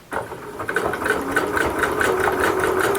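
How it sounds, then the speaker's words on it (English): A sewing machine runs steadily, machine-stitching a stumpwork embroidery beetle, with a fast, even mechanical whirring rhythm throughout at close range. "this sewing machine method really does speed up the process."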